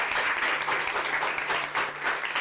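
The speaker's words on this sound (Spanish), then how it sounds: "Vamos a darnos un fuerte aplauso a tercero A." A class of students applauds together in a room, a dense, even patter of clapping sustained throughout without pause.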